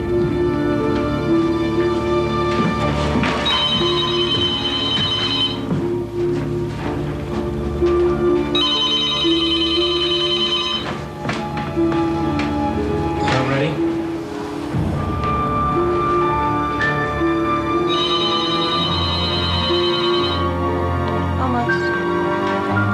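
A telephone rings repeatedly in a tense scene from the film Scream 2, its bell tones recurring in bursts over a dense, continuous background of film score and ambience.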